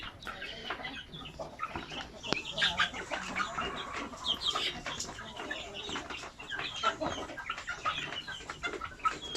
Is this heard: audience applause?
no